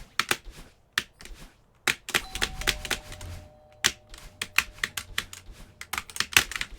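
Typing on a computer keyboard, with quick bursts of sharp clicking keystrokes, close and distinct, separated by brief pauses, plus a faint tone partway through and no talking.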